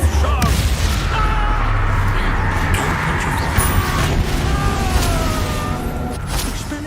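Expulso spell blast in Hogwarts Legacy, a loud booming burst within dense, continuous combat noise and rumbling effects, with fainter tonal game sounds layered over it.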